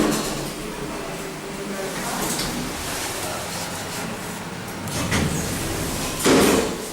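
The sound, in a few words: Schindler M-series lift door closing quickly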